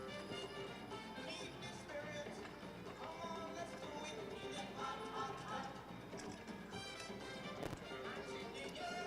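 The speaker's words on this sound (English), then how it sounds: "Walk your horses, please," Horses pulling single carts at a ladies' pleasure driving show walk on the rail with dense, faint hoof clip-clops under a steady murmur of crowd and announcer chatter.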